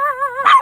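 A puppy yips and barks close by in a short, high-pitched burst, a wavering whine rising into one sharp bark.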